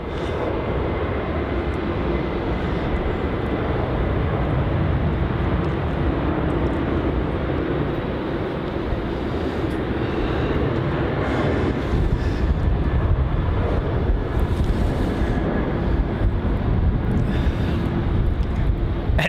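A Jetstar airliner takes off at Melbourne Airport in heavy rain, its engines a broad, steady roar that holds strong throughout while rain noise fills the background and no one speaks.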